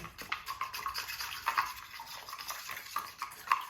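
Plaster and water, three cups to two, stirred together for a model railway scene, making close wet sloshing and scraping strokes with occasional sharper clinks against the container, uneven in rhythm and with no voices.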